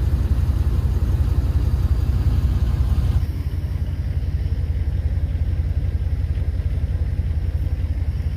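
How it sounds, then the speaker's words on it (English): A 1998 Dodge van with no fuel pump installed tries to start, its starter cranking the engine in a loud, continuous low rhythmic chug that goes on without catching and dips slightly partway through. "Just for shits and giggles, I decided to go ahead and try and start the van."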